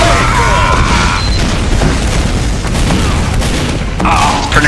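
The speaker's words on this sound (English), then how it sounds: "I love compression blasts." Loud, dense game combat from Team Fortress 2 with compression blasts booming through continuous gunfire and explosions, a steady wall of noise lasting the whole stretch, with voices talking faintly underneath.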